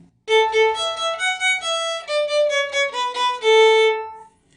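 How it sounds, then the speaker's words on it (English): A plain synthesized tone plays the Twinkle Twinkle melody note by note in an even rhythm, about a dozen clean notes ending on a longer held one, alone and clear. "Here's Twinkle Twinkle again."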